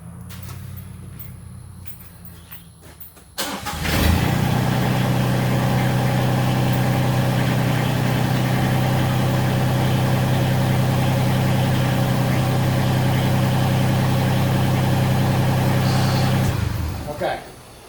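A Massey Ferguson sub compact tractor engine cranks briefly and catches, then idles loud and steady at close range for about thirteen seconds before it is shut off.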